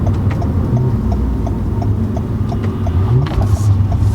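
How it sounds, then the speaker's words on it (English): A 2020 Toyota Camry TRD with an automatic gearbox blips its engine on downshifts: a steady close engine rumble with a quick rising rev toward the end and faint regular ticking, with no talk. "That's a Camry sounding like that with those blips on the downshift."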